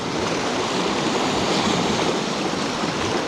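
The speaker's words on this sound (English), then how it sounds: "The swell's rolling in quite nicely." Sea swell rolling onto a winter shoreline where bass are fished with lures, a steady broadband wash of surf that stays loud and unbroken throughout with no voices.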